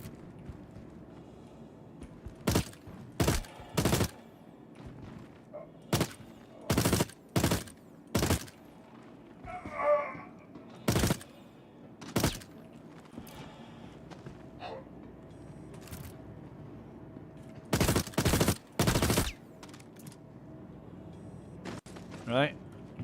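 Gunfire from the video game Star Citizen cracks in sharp, isolated single shots and short bursts spread irregularly across a quiet background, loud and close, with brief gaps between volleys and no one speaking.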